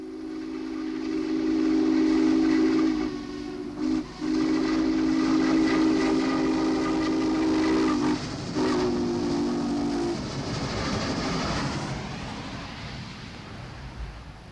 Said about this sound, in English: This was the first double-headed steam train on Blue Ridge for 28 years.